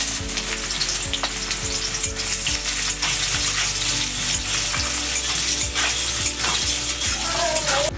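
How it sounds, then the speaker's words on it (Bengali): Chopped onions hit hot mustard oil in a wok already holding fried cardamom, clove and cinnamon, giving a loud, continuous sizzle with regular scraping stirs and light clinks of the utensil. "এখন দিয়ে দিচ্ছি কেটে রাখা পেঁয়াজ।"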